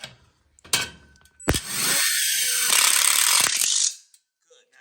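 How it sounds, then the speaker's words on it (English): Self-tapping screws are driven into a metal tube frame for an outdoor kitchen, with a couple of sharp clicks and then a loud, close, grinding whir for about two seconds that cuts off into quiet. "These are self-tapping screws, so they go right through the metal."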